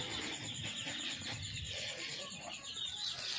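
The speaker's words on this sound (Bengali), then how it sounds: "এই খাবার ঢাললাম" Chicken feed pours into a poultry feeder in a steady, dry, rattling rush lasting the whole stretch, with faint clucking from nearby chickens.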